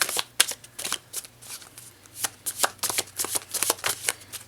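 Chakra wisdom oracle cards being shuffled by hand, a steady run of crisp riffling and slapping bursts close up, with no voices.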